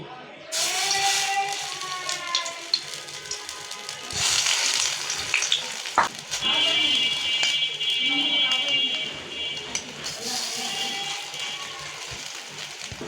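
Pieces of bread, being made into a coconut pitha, fry one by one in hot oil with a continuous crackling sizzle and hiss. A voice talks over the frying throughout.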